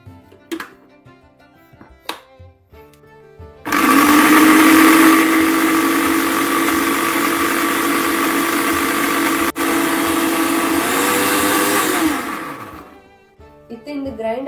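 A kitchen mixer grinder churns masala buttermilk with curd, hing powder and salt, starting abruptly, running loud and steady for about nine seconds, then winding down to a stop.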